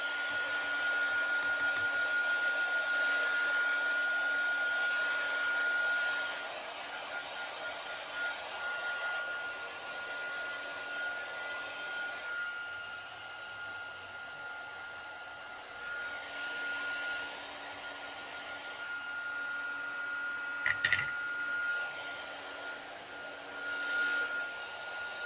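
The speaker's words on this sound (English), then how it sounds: "It's hot too because that was a heat tool." Heat tool drying a ceramic-painted lid for a hot chocolate gift, a steady blowing whir that runs throughout, a little louder at first and then dipping, with a brief clack near the end.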